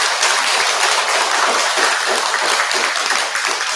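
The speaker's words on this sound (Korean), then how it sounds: "박수 한번 부탁드리겠습니다." Worshippers in a Buddhist temple hall applaud during a Sunday dharma service, a sustained wash of many hands clapping together, moderately loud and filling the room with no speech over it.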